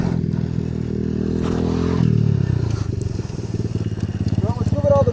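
A 2019 Apollo 250cc dirt bike idles and revs loudly nearby with a constant mechanical clatter and rattle, the engine pitch rising and falling.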